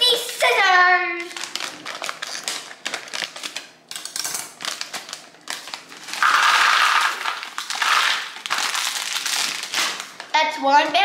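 Scissors snip and slice open plastic popcorn bags in a kitchen, with crisp crinkling and cutting bursts throughout, a short voice-like squeak at the start and end, and the plastic rustle staying close and fairly loud.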